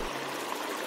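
River water flows in a steady, close rushing wash with no voices over it.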